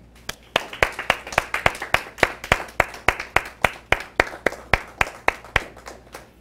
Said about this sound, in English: Stand up, clap yourselves, won't you?